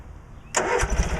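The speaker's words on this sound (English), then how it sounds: "let's see if she'll crank over." A Cub Cadet 1862 lawn tractor engine turns over and catches after a quiet stretch, a sudden burst of rough mid-pitched engine noise that carries on unevenly, up close.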